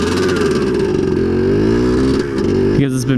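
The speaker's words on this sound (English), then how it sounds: "we're also doing a test ride on this motorcycle" A nearby motorcycle, long broken down and now on a test ride, drones loudly at a steady pitch, then briefly dips before a voice cuts in at the end.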